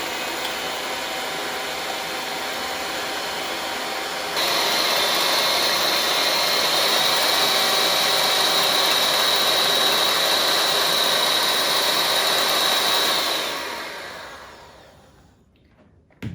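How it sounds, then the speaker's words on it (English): Electric hand mixer frothing egg whites in a bowl for an almond bundt cake, a loud steady whir that rises in pitch partway through, runs continuously with no talk, then winds down and stops near the end. "now it's time to froth your egg whites"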